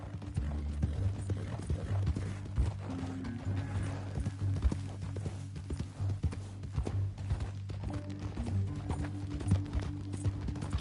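A horse in the Western video game Red Dead Redemption 2 gallops with a steady rhythmic clip-clop of hooves, loud and continuous over a low game soundscape, with faint snorts.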